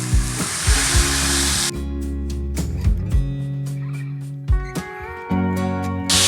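Food hits a hot skillet on a stove with a loud, close hiss of sizzling, then keeps frying beneath sustained tonal sounds.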